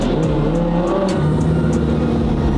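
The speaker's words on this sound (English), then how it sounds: "Lucci, rev it" A Lamborghini engine rumbles loud and close on a city street at night, a deep steady drone with a slight swell as it is revved, no voices over it.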